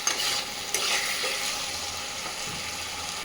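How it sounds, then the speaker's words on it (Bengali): Spice paste with chili powder frying and being stirred in a pan for chicken kosha, a steady close sizzle with scraping strokes of the spoon throughout, no voices. "তো এখানে মশলাটা ভালো করে একটু কষে নিই।"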